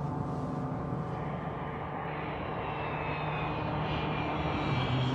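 An airplane coming in to land at an airport, its engine droning loud and close at a steady, sustained level throughout, with a faintly shifting whine above the roar.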